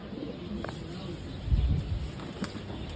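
Pigeons cooing in a loft, soft low murmuring coos with a louder burst midway, under steady background hum and faint chirps.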